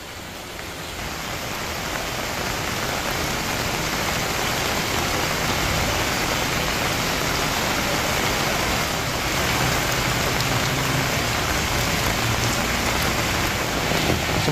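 Heavy rain pours steadily during flooding in the Jabodetabek area around Jakarta, a dense continuous hiss that swells over the first couple of seconds and then holds loud and even, with no voices.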